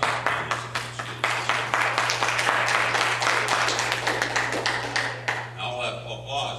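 An audience claps during a county debate on marijuana measures, a dense, lively burst of applause that fades near the end as a voice begins, over a steady low hum.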